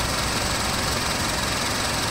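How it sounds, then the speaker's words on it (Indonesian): A 2012 third-generation Honda CR-V engine idles with the hood open, a steady, even broadband hum and fine rattle running continuously at close range, with no talking. "Nah, ini suara mesinnya"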